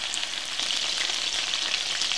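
Chicken pieces for a roast fry in hot oil in a pan, giving a steady, close sizzle with constant crackling and spitting and no pauses.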